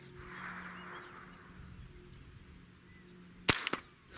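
A Ruger 10/22 rifle fires during a rabbit hunt outdoors: after a quiet stretch with faint background birds, one sharp, loud crack rings out, followed quickly by a second and third shorter report.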